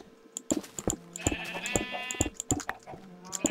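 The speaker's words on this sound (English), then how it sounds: "these damn sheep." Blocky Minecraft sheep bleating repeatedly in quick, loud calls over game music with plucked notes and footstep-like ticks, several overlapping cries in a short span.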